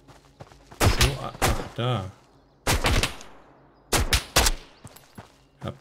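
Gunfire in the survival shooter Road to Vostok: several loud, sharp bursts of shots in rapid clusters, separated by short pauses, while someone talks in between.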